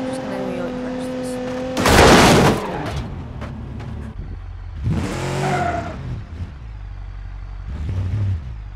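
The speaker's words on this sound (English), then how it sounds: "I'm just gonna really crash this." A car crashes in the video game BeamNG, with a loud burst of impact noise followed by further crunching thuds and engine sounds. A person talks between the hits.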